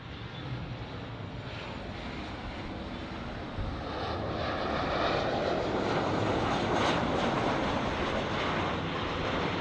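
American Airlines Boeing 737 on approach to LAX, a broad jet roar that builds noticeably partway through and stays strong, with no talking.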